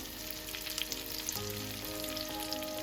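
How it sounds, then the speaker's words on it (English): Pumpkin for a pumpkin and sausage risotto cooks down in a pan with a soft, even sizzle and light crackles over a faint steady background hum, with no talking. "At this point, I would add my pumpkin. And now I will be letting it cook down."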